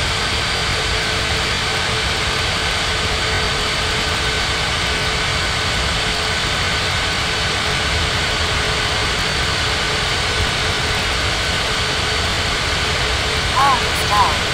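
Jet engine roar from an aircraft taking off in an air traffic control simulation game, a loud, steady, unbroken drone that fills the whole stretch, with faint radio-style voices near the end.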